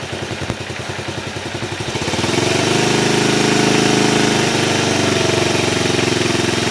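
A Honda C70 motorcycle with a 12-volt full-wave standard magneto idles with a quick, loud chugging beat, then the throttle opens slightly and the engine rises to a steady, louder hum, heard close with no talking.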